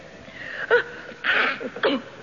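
A single sneeze, short and fairly close, preceded by a quick intake of breath in a quiet room.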